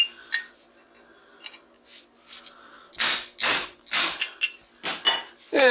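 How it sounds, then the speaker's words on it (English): A hammer strikes a steel chisel while a transformer is broken apart for copper scrap, giving a series of sharp metallic clanks, sparse and irregular at first, then a quicker cluster of ringing hits, close and loud. "And just gotta flip it over, hit the chisel there."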